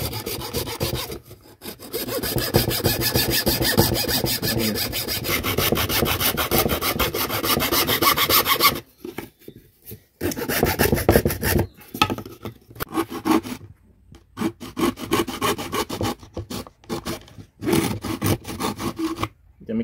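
Bamboo is cut to make a gogona, a bamboo jaw harp. Close, rasping back-and-forth strokes run steadily at first, then break into shorter bursts separated by pauses.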